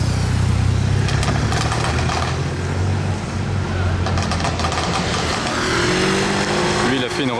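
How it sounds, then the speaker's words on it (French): A Gordon Murray T50 sports car with a screaming V10 drives past, its exhaust rumbling loudly and crackling, with people talking over the engine noise. "Et écoutez les retours d'échappement."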